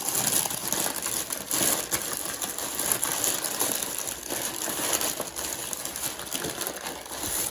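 Packing paper crinkles and crushes continuously inside an opened box holding a Gemini Jets Southwest 737-700 model airplane, a dense, close, steady rustle with no talking.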